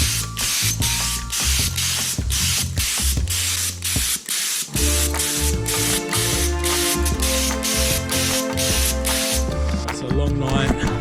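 Spray gun painting a motorcycle tail section at home, a loud continuous airy hiss pulsing in short regular bursts over a droning compressor hum, with a brief pause midway before spraying resumes.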